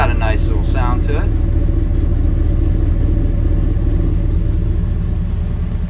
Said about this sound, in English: Go to the back and give a listen to the exhaust real quick.